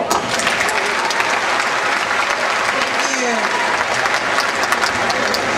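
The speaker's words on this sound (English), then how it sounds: "give her a round of applause" An audience at a flood benefit event in Martinsville, Indiana applauds continuously, a dense, loud wash of many hands clapping with no break throughout.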